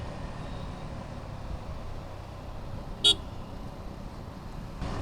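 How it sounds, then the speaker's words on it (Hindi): A motorcycle rider on a night ghat road near Lonavala, Pune gives a single short, sharp horn toot, brief and fairly clear above steady engine and wind noise. "मैंने हॉर्न दिया ताकि उसको बाय बोल सकूं"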